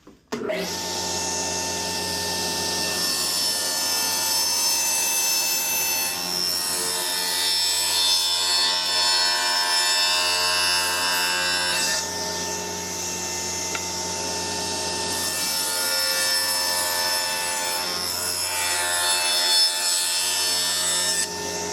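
Power saw cutting notches into a wooden piece for a home-built aquarium stand, a loud sustained whining cut that runs steadily for about twenty seconds with slight shifts in pitch as the blade bites through the wood.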